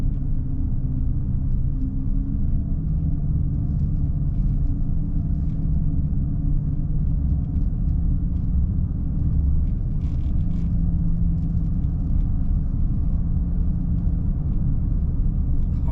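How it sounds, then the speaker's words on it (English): An old diesel vehicle engine idles or runs in Norway, a loud, constant low rumble held steadily without pause. "Oh, it's an oldie diesel."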